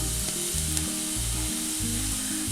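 Onion with turmeric and coriander powders sautéing in hot oil in a pan for a green peas coconut milk curry, a steady close sizzle with rhythmic stirring scrapes throughout, no voices.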